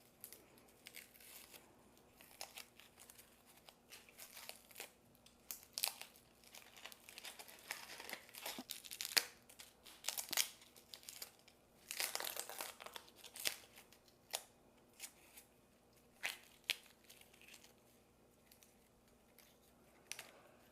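Dry, moldy papery outer layers being peeled off an amaryllis bulb by hand, close up: soft crinkling and tearing rustles in irregular bursts, busiest in the middle stretch, with no talk.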